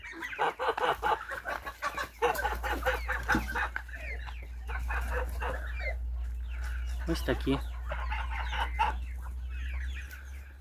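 Chickens clucking on a Ukrainian poultry yard, with hens and young cockerels of several pure breeds calling in repeated bursts close by, while someone talks over them.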